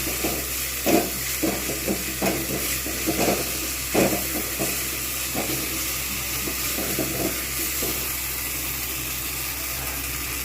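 Ginger garlic paste fries in a hot pan for a Bengali pabda fish curry, giving a steady close hiss and sizzle with a few scraping stirs in the first few seconds.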